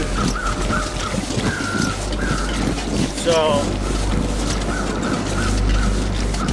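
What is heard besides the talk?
birds calling in a video game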